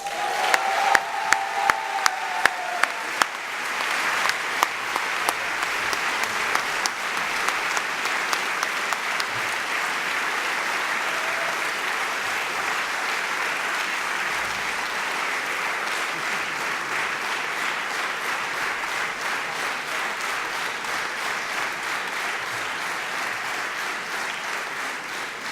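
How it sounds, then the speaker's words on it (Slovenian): An audience at the Slovenska gazela 2018 business award ceremony applauds the Silver Gazelle award to Intralighting; a few distinct claps open into dense, sustained hall-wide clapping lasting about twenty-five seconds. "Hvala za vaš srebrni aplavz."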